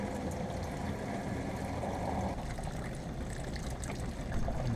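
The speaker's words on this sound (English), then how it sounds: "now I'm gonna run some water through it without the cap on" Water runs steadily through an RV fresh water tank with the cap off, flushing it out after vinegar was drained; a continuous, fairly loud rushing flow with no break.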